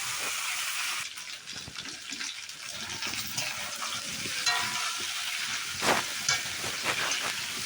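Potatoes and tomato sizzle and fry in a pan while being stirred, producing a continuous moderate crackle with occasional scraping and clinks from the stirring.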